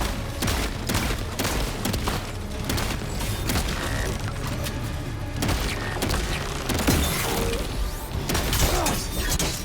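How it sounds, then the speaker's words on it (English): Shotgun blasts and shattering impacts in Death Stranding 2, loud repeated bursts with crashing debris filling the whole stretch. "let's get the shotgun out again"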